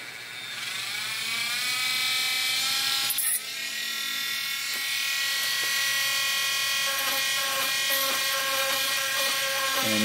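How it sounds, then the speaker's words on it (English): A fast, high-pitched drill whines continuously while working on a plastic part of a Moebius U.S.S. Franklin NX-326 model kit, close and steady for about ten seconds with a brief catch partway through. "coming in with a faster drill"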